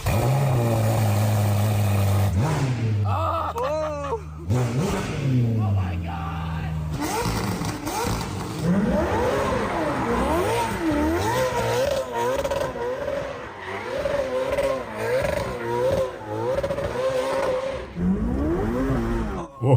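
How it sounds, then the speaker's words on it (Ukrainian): A tuned Ferrari with an aggressive engine map revs hard again and again, with crackling exhaust backfires and pops between sustained loud engine sweeps, close and dominant throughout. "Ми встановили на цей автомобіль одну з бешених прошивок, тому простріли, простріли, простріли."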